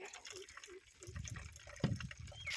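Agromaster 20-20-20 water-soluble fertilizer solution for a tomato crop is poured for drip irrigation, giving faint, brief splashing and trickling.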